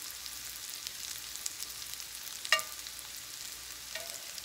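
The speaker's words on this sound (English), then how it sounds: "we just want to kind of spread it out in the pan" Broccoli florets spread out in a skillet give a faint, steady sizzle, with one brief sharp scrape of the pan partway through.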